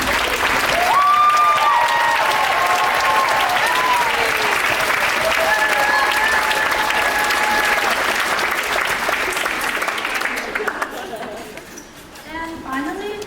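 Loud, sustained audience applause after a spring pops concert, dense clapping with cheers and whistles riding over it, thinning out near the end as a few voices come through.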